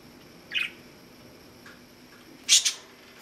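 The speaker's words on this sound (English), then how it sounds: "Hi, Tweety Bird." A pet bird squawks in two short, shrill bursts, the second louder and doubled, close by in an otherwise quiet room.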